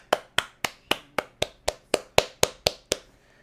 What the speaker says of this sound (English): I'll clap with them